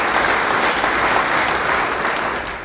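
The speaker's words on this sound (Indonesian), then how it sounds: "Beri tepuk tangan bagi dia." A church audience breaks into sustained, dense applause that fills the room, loud at first and then easing slightly toward the end.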